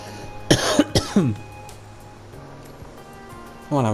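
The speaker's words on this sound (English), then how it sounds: "Oh my gosh, why do I keep coughing" A person coughs in a few sharp close bursts, two or three quick hacks, then a short pause and another cough at the end, with no speech.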